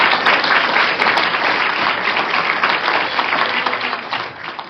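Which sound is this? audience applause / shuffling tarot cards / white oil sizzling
audience applause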